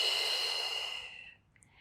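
A single long, breathy exhale during a yoga routine, close to the mic, steady and airy before fading out into near silence.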